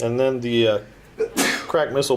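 A single sharp sneeze bursts out near the microphone partway through, between stretches of nearby talk during a tabletop wargame session.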